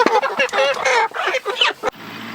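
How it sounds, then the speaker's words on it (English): Pastured chickens herded toward transport crates make a dense, loud run of overlapping clucks and squawks, with harsh honk-like calls close by, ending in a sharp thump and a steady background hum. "using our little herders to move some more chickens up to the front"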